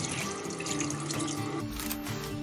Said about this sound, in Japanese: 鱗引き終わったら水で洗い流します